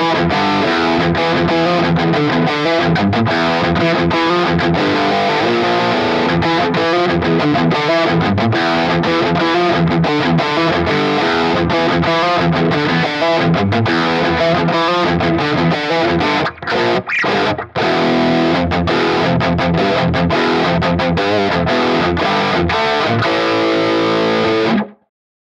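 Electric guitar played through a Guitar Rig amp modeler with an impulse response cabinet, a thick distorted tone with chorus-like shimmer, continuous chords and riffs ringing loud and close for about twenty-five seconds before cutting off, with no talk.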